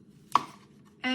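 A knife chops once through the bottom of a beet on a cutting board, a single sharp thud close by in a quiet kitchen.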